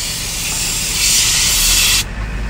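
High-pressure water spray blasts a Toyota car's air-conditioning evaporator during cleaning, a loud continuous hiss that swells brighter midway, then cuts off abruptly, leaving a lower background rush.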